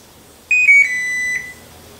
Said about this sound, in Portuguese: Mostrar mais uma vez o bip pra vocês.